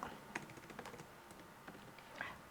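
Quiet typing on a computer keyboard, a quick irregular patter of soft key taps with a few sharper clicks, close and alone with no talk.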